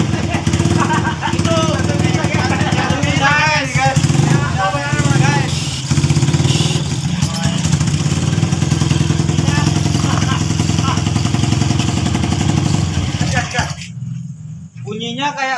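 A motorcycle engine runs after an oil change done with detergent powder, giving a loud, continuous idle with chirpy squeaking on top. People talk over it throughout until the sound cuts off near the end.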